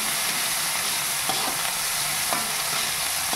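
Bottle gourd sautéed with chicharon bagnet and shrimps in a pan gives a steady, close sizzle with a few soft stirring scrapes, and no one talks.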